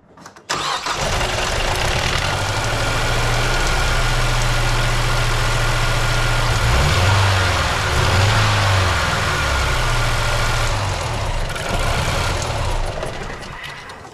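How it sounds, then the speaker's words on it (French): A car engine cranks and catches, then idles loudly and unevenly with a lumpy, misfiring rhythm from one cylinder with uneven compression, recorded close with no talk. "Je vais la démarrer, que ça vous entendez déjà le bruit que ça fait."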